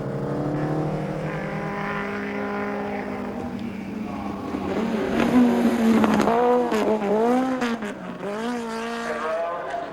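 A racing car, a Grand Prix car or Lotus Cortina, cornering at high speed, its engine note loud and close and rising and falling in pitch through the bends, with possible tyre squeal.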